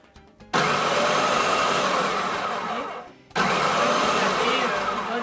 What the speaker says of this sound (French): Il est sympa leur découpe légumes. Je vais le faire tourner, regardez, vous allez voir.